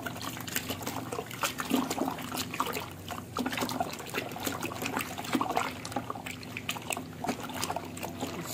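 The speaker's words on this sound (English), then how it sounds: "You stir. You use your hand and bring the particles." Titanium dioxide powder stirred into water by hand, giving a continuous close sloshing and trickling of liquid with irregular splashy swirls throughout.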